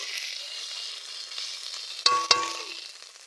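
Green chilies, dried chilies and crushed garlic hit hot oil in a pan, giving a steady close sizzle with two sharp clanks of a utensil near the end.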